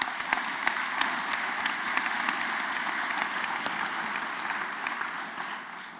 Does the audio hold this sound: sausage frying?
no